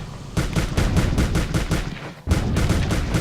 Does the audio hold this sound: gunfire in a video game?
yes